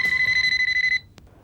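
A phone rings with a loud electronic trill that pulses steadily for about a second, then stops abruptly, leaving a brief faint click.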